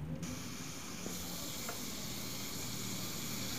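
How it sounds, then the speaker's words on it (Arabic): Water heating in a pot on the stove until boiling: a continuous broad hiss and sizzle, steady and moderately loud, with a couple of faint clinks and no talking. "هناخد كوباية مية ونرفعها على النار لحد ما تغلي"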